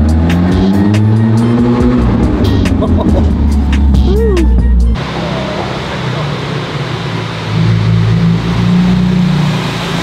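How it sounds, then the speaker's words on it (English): A loud car exhaust revs hard inside a garage during Monterey Car Week 2022: deep, rasping bursts climb and fall, then settle into a throatier steady rumble, with voices talking alongside. "Yeah, this exhaust is crazy."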